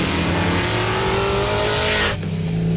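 A 1967 Chevrolet Chevelle race car running on a track: a loud, close V8 engine howl climbing steadily in pitch under hard acceleration, then a sharp cut as it shifts and the revs drop, with no talking.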